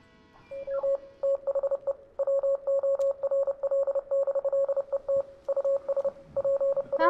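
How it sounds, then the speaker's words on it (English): A Morse code-like radio signal from the Oxenfree video game sounds as a steady tone pulsing in irregular short and long beeps, loud and clear over faint static, repeating for several seconds. "Sounds like Morse code."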